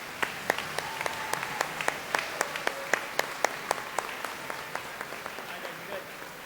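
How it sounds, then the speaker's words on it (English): At a school awards day, an audience gives a round of applause for students' hard work, with distinct, fairly sparse claps at a steady rhythm over a murmur of voices. "please give these ladies and gentlemen a round of applause for such hard work"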